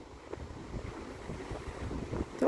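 Faint ocean waves wash in a steady, soft roar mixed with wind noise, distant and without talk.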